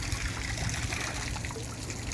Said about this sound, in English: And then you've got a third stage fountain there.